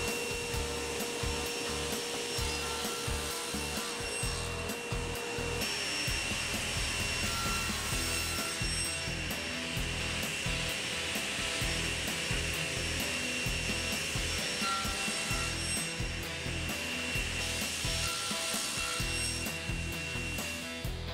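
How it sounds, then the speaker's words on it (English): A table saw with a micro jig cuts wooden blocks to size, a steady loud whine running continuously for twenty seconds with repeated rubbing and cutting noises beneath it. "I'm going to set the fence, and then I'm going to use the micro jig to cut them down to size"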